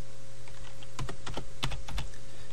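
Someone is typing on a computer keyboard while entering a value into a spreadsheet cell, producing a short burst of close, crisp key clicks at an uneven rhythm with no voice over them.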